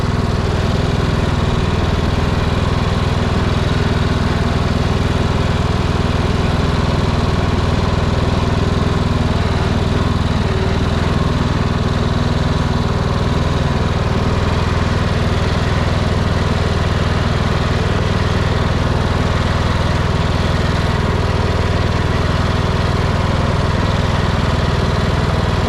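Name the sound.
Cub Cadet lawn mower engine running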